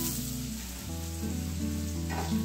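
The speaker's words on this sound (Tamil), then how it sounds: "இது கூட ஒரு பெரிய வெங்காயம் பொடியா நறுக்கினது சேர்த்துக்கிறேன்." Finely chopped onion sizzles and fries in hot oil in a pan for a cabbage kofta curry, a close, steady crackle with a low background hum and no talk.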